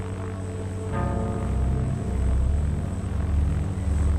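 A propeller airplane flies steadily in a film scene, its engine drone a continuous loud hum that swells slightly and holds without letup.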